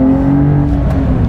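A Porsche 911 Carrera T engine revs in a brief, loud, close burst, a steady droning mechanical tone with no voices.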